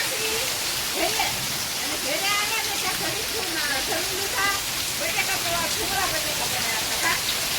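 Steady, dense downpour of heavy rain hissing all around in the fields during a dark thunderstorm, while people talk over it throughout.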